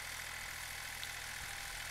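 Engine of a Katman 300 walk-behind tractor pulling a hiller through soil, a steady loud hum and drone running continuously with no talk.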